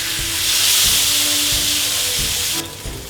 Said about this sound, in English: So we're looking for that nice sear on the skin.